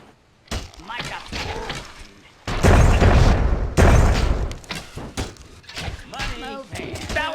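Explosions in the real-time tactics game Myth: The Fallen Lords, two loud booming bursts over a low rumble, with a player talking before and after them.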